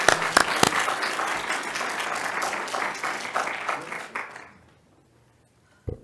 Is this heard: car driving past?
no